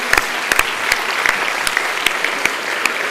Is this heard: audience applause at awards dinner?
yes